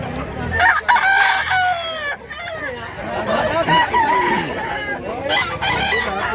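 A spangle-colored rooster, one of several fowl for sale at a Cebu poultry market, crows repeatedly in long rising calls amid clucking from other chickens and steady nearby human chatter.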